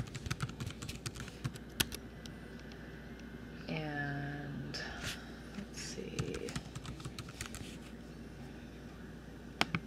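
Typing on a computer keyboard while entering personal details and an email address, heard as a run of close, irregular key clicks with a short humming tone midway through.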